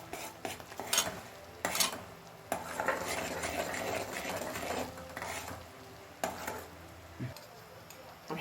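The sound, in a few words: stirring sugar syrup for Mawlid sweets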